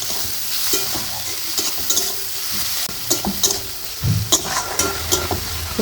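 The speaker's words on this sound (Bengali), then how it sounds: "পেঁয়াজটা আমার ভাজা ভাজা হয়ে গেছে।" Softened onions frying in a pan for a bottle gourd and prawn curry, with loud sizzling under repeated clattering spatula stirs and scrapes in an uneven rhythm.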